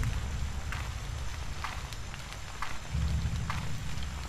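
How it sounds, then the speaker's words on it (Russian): Steady rain falls through a foggy horror video game, a constant hiss with faint intermittent ticks of drops and a low rumbling bed beneath, no voices. "Идет дождь, и как будто бы..."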